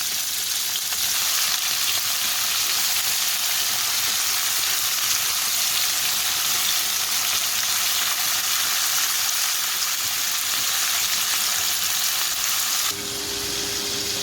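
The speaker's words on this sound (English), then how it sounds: "My kielbasa cooking." Kielbasa sausage cut into rounds sizzles in a frying pan, giving a loud, steady, close crackle that holds for the full length, with a faint tone near the end and no voices.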